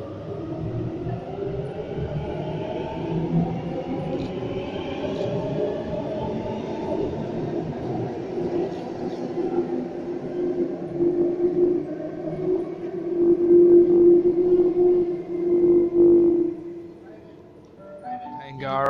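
A Sydney Waratah train pulls into Epping station platform with a rising, tonal electric motor whine and rumble that swells toward the end before easing, with station ambience around it.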